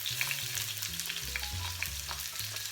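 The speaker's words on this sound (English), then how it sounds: "we're going to fry the onions" Onions frying in heated oil, with a steady close sizzle and occasional crackle while a utensil stirs through them, lasting a few seconds without talk.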